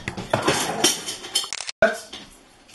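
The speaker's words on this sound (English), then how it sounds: "And we have to whisk it." A whisk clinks against a bowl as a steak marinade is beaten. The quick metallic taps and scrapes come in short bursts with a brief pause, and a voice is heard along with them.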